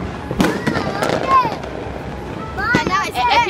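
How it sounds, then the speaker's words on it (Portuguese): Firecracker blasts at a family New Year's Eve celebration, several sharp bangs and crackles close by, with whistling pyrotechnic streaks and excited voices talking over them. "Ela vai estourar a bomba"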